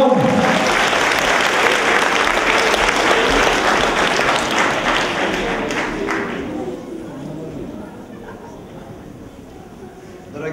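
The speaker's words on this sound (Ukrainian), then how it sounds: "Ще ваші вихливі оплески нашим чарівним, найгарнішим жінкам." Audience at a spring holiday concert claps loudly in a dense, sustained burst that gradually fades over the final seconds, filling a large hall.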